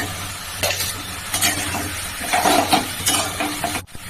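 Vegetables such as potato, okra and papaya tossed into a pan of hot ghee and stirred while frying, with a steady close sizzle and repeated scraping strokes of a spatula against the pan.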